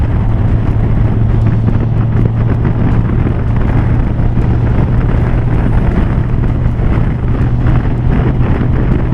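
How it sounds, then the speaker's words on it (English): Strong wind roars steadily and loudly across the microphone, a dense buffeting rush with a low constant hum underneath, no one speaking. "Now you get an idea how windy it is."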